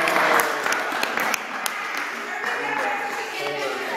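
A crowd at a CrossFit Open Games awards gathering in North Salem claps for a trophy winner, loudest at first, then thinning to a lighter patter with voices talking underneath.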